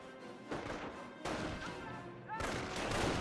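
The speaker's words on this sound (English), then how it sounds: "Position under fire from ground troops." Gunfire from ground troops and a machine gun position in the WWII strategy game Company of Heroes, with repeated dense cracking bursts and crashes layered over continuous battle noise.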